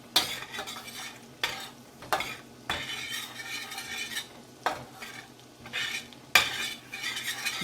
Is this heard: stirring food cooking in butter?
yes